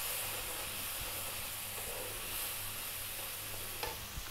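Stock is stirred into cooked flour in a pan for onion gravy, giving a quiet, continuous bubbling hiss with soft scraping from the spoon and no talking.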